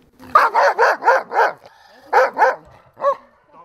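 Police dogs in training bark loudly and close by: a rapid run of five barks, a short pause, two more barks, then a single final bark.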